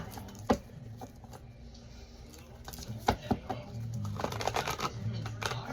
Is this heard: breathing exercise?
no